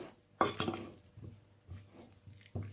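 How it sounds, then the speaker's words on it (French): Boiled potatoes being mixed with sweet paprika and other spices in a bowl, giving a few scattered clinks and scrapes of a utensil against the dish with quiet pauses between them. "Je mélange comme ça."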